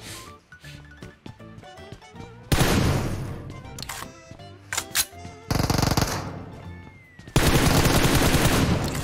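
Automatic gunfire in PUBG Mobile comes in loud, dense bursts, with rapid rattling volleys separated by brief quieter gaps of game sound, the final burst lasting steadily for nearly two seconds.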